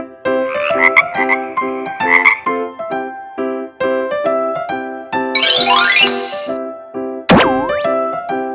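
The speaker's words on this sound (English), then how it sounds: "frog" A frog croaks in a rapid series of loud, resonant, tonal calls, repeated in pulsing bursts with a few sharp springy boing-like accents, close and clear with no speech.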